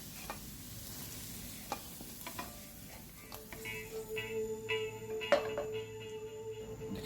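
Cooking oil sizzling in a pan with a faint crackle that builds toward the end, broken by a few sharp utensil taps and scrapes, close and without speech.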